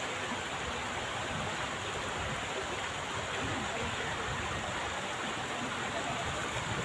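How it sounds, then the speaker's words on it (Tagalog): Strong river current rushes in a loud, unbroken broadband roar of churning water throughout, close and steady with no pauses. "Medyo malakas din naman ng agos eh no yan oh."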